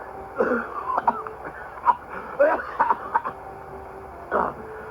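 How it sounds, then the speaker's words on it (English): Someone coughs and wheezes in a series of short, wet hacking bursts and throat clears, moderately close. "He climbs up the bank, coughing up water."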